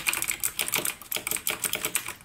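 Rapid, crisp clicking of a Razer BlackWidow Chroma V2 mechanical keyboard with green switches, keys struck steadily in a quick typing rhythm, loud and close with no talking.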